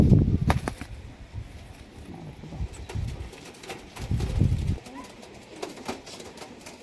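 Racing pigeons coo in low, throaty bursts at close range, recurring in several rounds amid scattered clicks and shuffling, with a voice talking at times.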